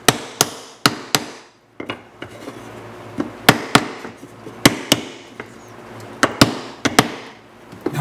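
Sharp wooden taps land in an irregular series, about a dozen close-up knocks tamping down laser-cut wooden inlay pieces, with short pauses between them and a faint background hiss.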